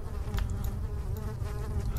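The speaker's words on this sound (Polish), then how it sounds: "Słyszę muchy." Flies buzz in a dark scene from the horror game Amnesia, a close, continuous droning hum with small shifts in pitch as they move around.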